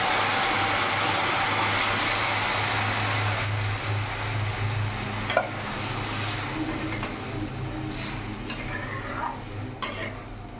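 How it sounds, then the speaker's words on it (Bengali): Vegetables for dal shukto are stirred in a hot pan, a steady loud sizzle with intermittent scraping of the spatula against the pan, continuous throughout with no talking. "ভালো করে নাড়াচাড়া করে নিলাম।"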